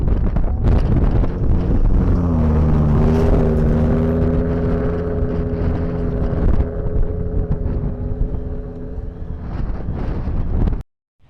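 A cheap portable air compressor runs loudly while refilling an off-road van's aired-down tires, a steady motor drone with a rising tone that holds for several seconds and then stops abruptly, with wind buffeting the microphone.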